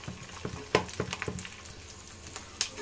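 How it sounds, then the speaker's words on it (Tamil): Mustard seeds, green and dried chillies and curry leaves fry in hot oil, with sharp sizzling crackles and pops bunched in the first half, then thinning to a few scattered spits nearby. "கடுகு நல்லா பொரிஞ்சதுக்கு அப்புறமா ஒரு 5 பச்சை மிளகாய், 5 காஞ்ச மிளகாய் போட்டு கருவேப்பிலையும் கொஞ்சம் நிறையாவே பெருங்காயம் போட்டுக்கலாம்."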